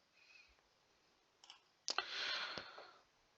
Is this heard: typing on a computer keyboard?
yes